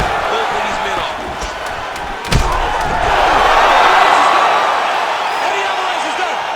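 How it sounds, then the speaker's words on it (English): Crowd cheering in EA Sports UFC 5 at a mixed martial arts event, a loud, sustained arena roar that swells after a sharp thud, continuing steadily to the end under commentary. "big pop from the crowd as they get back to their feet"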